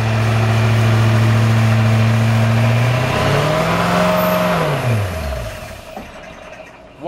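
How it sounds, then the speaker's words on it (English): A Kohler engine on an Amtex Equipment Stack 3047 machine idles steadily and loudly, revs up to higher RPM, then winds down and cuts off into near silence. "the best way to shut down a Kohler engine is to increase the RPM and shut it off."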